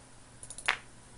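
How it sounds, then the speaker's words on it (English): A single sharp hand clap drum sample played in Scratch, one short crisp snap, quiet and isolated against near silence. "We're going to add a hand clap."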